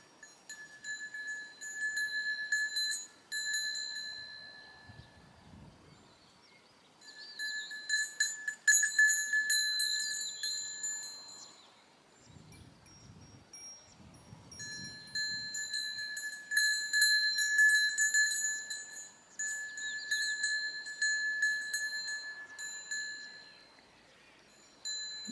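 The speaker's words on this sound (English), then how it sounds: "I love to hear the goat bells." Goat bells ring in repeated bright, tinkling bursts on a country smallholding where a nanny goat stands with her young kids, clanking intermittently near and far with soft low rustles between.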